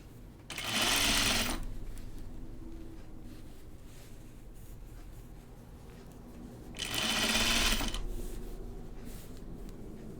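A home sewing machine stitches a garment in two short, loud bursts about six seconds apart, with quiet room hum in between.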